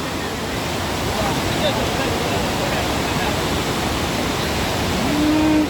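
Kutralam waterfall in Tamil Nadu roars as a dense, constant wash of rushing water close by, loud and unbroken for several seconds.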